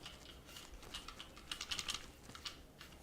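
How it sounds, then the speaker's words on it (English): Rapid clicky keystrokes on a mechanical computer keyboard, close and distinct, in quick uneven bursts with a few louder clacks, and no one talking. "Junior, do we need to talk about this keyboard?"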